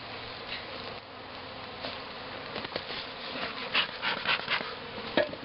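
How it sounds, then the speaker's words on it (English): Honeybees from a dying hive buzz steadily around the boxes, a dense droning swarm with individual bees zipping close by in louder passes toward the end. "These bees belong to the lower hive, and they will not know where they are if I just let them out"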